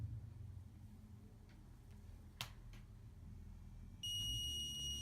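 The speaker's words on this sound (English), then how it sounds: "And the buzzer is activated." A few clicks and snaps in a quiet room, then a smoke detector's shrill electronic alarm buzzer switches on and holds a steady tone near the end, on a smart home simulation board.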